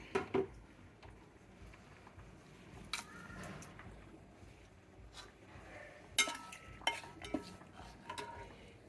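Spices for an Andhra-style fish curry temper in hot oil, a faint steady sizzle broken by a few sharp clinks of a utensil against the pot.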